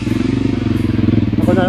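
A trail motorcycle engine putters at a fast, even pulsing beat on an off-road trail, close and steady, with a voice talking briefly near the end.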